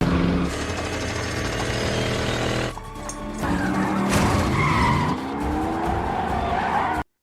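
A race car in a Fast and Furious 8 street race skids with its NOS boost engaged: loud, sustained tire screeching over a roaring engine, briefly dropping and then surging again before cutting off abruptly.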